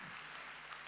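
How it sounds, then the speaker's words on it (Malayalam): Audience applause at a carol singing competition closing ceremony, a brief dense wash of clapping, fairly faint and distant. "ഒരു വലിയ കൈയടി അതിന് തന്നെ."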